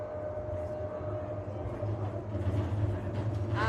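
A passenger train in Calgary runs through a series of tunnels, heard from inside as a steady low rumble and rolling drone that swells slightly toward the end.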